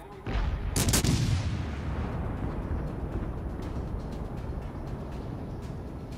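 Video game gunfire: one sharp, loud shot with a booming tail near the start, followed by a long rumbling decay under steady background noise, with no talking.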